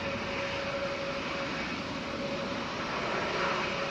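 An aircraft passing at Manchester Airport on a windy day, a broad steady engine roar with a faint constant tone, heard from a distance with no voices.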